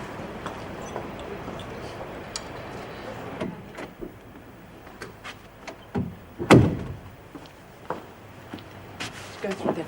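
A door in a prison opens and closes with a few thuds and knocks under ongoing talk, one louder bang standing out midway.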